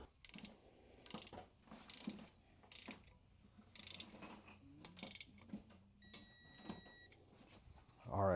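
A hand ratchet clicks in short runs as it snugs up bolts on a Porsche 951 engine during a rebuild. The clicking is close but fairly quiet and is interleaved with someone talking.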